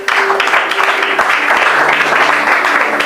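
A sermon audience applauds, dense steady clapping that stays loud and continuous throughout, with faint voices mixed in.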